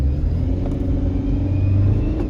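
A BMW engine with a failing 6HP21 automatic gearbox rumbles heavily as the throttle is pressed, a loud, steady low drone with little change in pitch over a couple of seconds and no speech.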